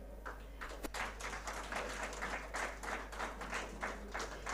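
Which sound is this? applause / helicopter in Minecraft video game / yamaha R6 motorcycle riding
applause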